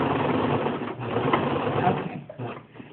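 Close and steady, a sewing machine hums and whirs as it stitches a seam with back tacking, running continuously with a brief dip and restart near the end.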